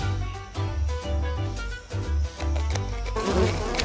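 A dense, loud swarm of bees buzzing close by, with a pulsing drone that wavers in pitch and swells toward the end.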